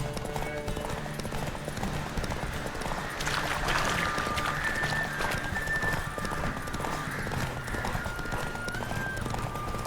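A horse gallops in The Witcher 3 video game, with steady, rhythmic clip-clop hoofbeats running throughout and some faint tonal background sound.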